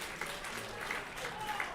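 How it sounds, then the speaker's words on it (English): Crowd applause sounds at an arm wrestling event as an athlete leaves the stage, steady clapping filling the room while an announcer talks over it. "he's getting a huge ovation from the crowd here"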